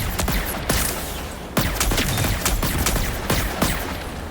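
Rapid, dense gunfire from the video game Marathon during a squad fight, with bursts of shots packed tightly over a loud, continuous backdrop and a few heavier impacts standing out.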